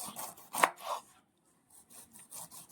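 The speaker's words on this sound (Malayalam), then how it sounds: "മുള്ളെല്ലാം ഇതുപോലെ നമുക്ക് ചെത്തി കളഞ്ഞതിന് ശേഷം നമുക്കിത് ചെറുതായിട്ട് അരിഞ്ഞെടുക്കാം" A knife chops green pineapple for a Kerala-style thoran, giving a few crisp cutting thuds, then a brief pause and a run of lighter, quicker chops close by with no speech.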